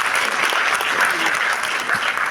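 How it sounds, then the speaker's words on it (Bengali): Steady, dense applause from a film festival audience in Bengal, many hands clapping continuously at close range with no pauses, filling the whole stretch. "জোরে হাততালি"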